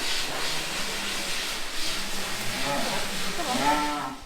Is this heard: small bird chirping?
no